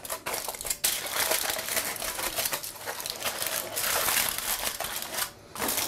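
Paper covering for an Old English Christmas pudding being folded and crinkled by hand, a close, steady crackling and rustling that runs almost without pause, with a brief dip near the end.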